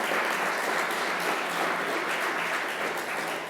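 An audience applauds steadily at a speaker series event, a dense, even wash of many hands clapping that holds at a constant level throughout with no voices on top.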